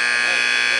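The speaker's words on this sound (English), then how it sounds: "buzzer. I guess they're trying to get us out of here." A loud, steady electronic buzzer drones continuously at one harsh, unwavering pitch, filling the whole moment without a break.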